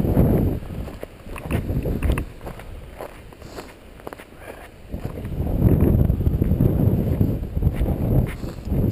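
Strong, gusty winter wind on a cold morning with a 12-degree wind chill, roaring and buffeting the microphone in two long surges with a lull between, loud and close, joined by rustling and shuffling footsteps.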